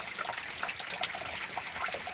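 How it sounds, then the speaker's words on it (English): Water rushes steadily through an aquaponics siphon, a continuous close gushing trickle with small bubbling surges and no pauses. "as the water starts flowing"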